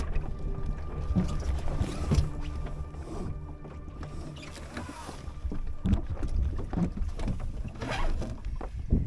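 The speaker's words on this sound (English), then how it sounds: "Oh, we're sailing." A Drascombe lugger dinghy sails on open water off Anglesey, with continuous water sloshing and splashing against the hull, wind buffeting the microphone and occasional knocks and rustles from the boat, all close by and steady.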